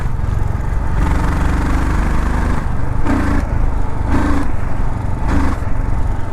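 Royal Enfield Scram 440 motorcycle engine in fourth gear as the throttle is snapped open, a steady loud engine drone with a few short surges in pitch and rumble, heard up close without talk.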